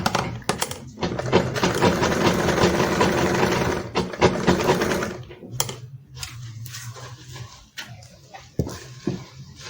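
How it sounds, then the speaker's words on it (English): A sewing machine stitches fabric for a Yoruba iro and buba, with bursts of close motor whirring broken by pauses, clicks and handling noises, the runs getting shorter and more intermittent in the second half. "So just continue sewing all the way down"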